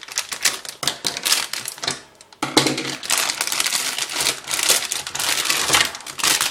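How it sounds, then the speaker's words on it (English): Scissors cut through plastic packaging around modular power supply cables for a Corsair CS750M, a close, crisp run of snipping and crinkling with a brief pause before the cutting resumes steadily. "trusty pair of scissors."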